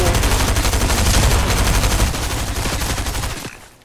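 Rapid burst of gunfire in the video game Fortnite, dense loud repeated shots for about three seconds before cutting off abruptly.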